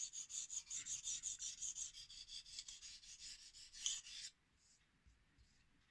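A Kai DM0700 damascus knife is sharpened freehand on a Shapton whetstone in quick, even scraping strokes. The sound is quiet and close for about four seconds, then stops.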